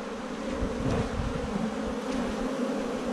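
A large swarm of honeybees buzzing around a wooden hive box as they settle into it, a dense, steady droning hum close by that fills the whole stretch without any talking.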